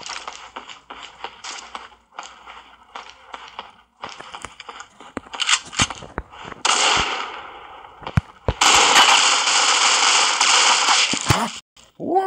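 Rapid AK-47 gunfire in the mobile shooter Critical Ops crackles in sharp bursts and single shots, with a long sustained burst near the end, over quiet gaps.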